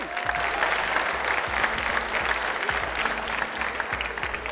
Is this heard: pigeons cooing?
no